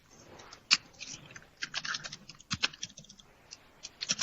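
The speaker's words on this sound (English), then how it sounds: "Elon, your Texas keyboard is just as loud as your Santa Monica one" Loud computer keyboard typing in irregular bursts of sharp clicks and clacks, some keystrokes louder than others, close by and without speech.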